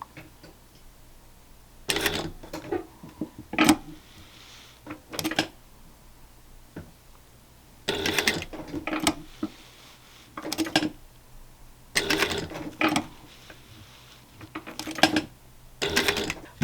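Household sewing machine stitching a circle in fabric, running in short separate bursts with quiet pauses between as the fabric is turned, each burst a rapid close mechanical ticking.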